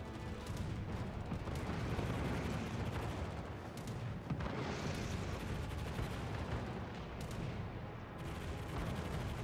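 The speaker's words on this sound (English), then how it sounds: "Anti-aircraft gun crews are on full alert." Anti-aircraft guns aboard the cruiser Cleveland fire in a naval warfare video game, a dense, continuous crackle of rapid shots and booms heard fairly faintly.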